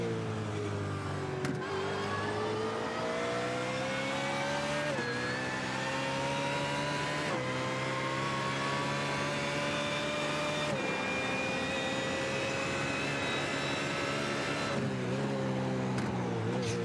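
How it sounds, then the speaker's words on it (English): A BMW Z4 GT3 race car, an older model, runs on the Nürburgring Nordschleife in a sim racing game, its engine droning loudly and continuously as it climbs through the gears, each shift cutting the pitch back down, with no talking. "pretty good sound in the BMW Z4 GT3, which is still a pretty old car"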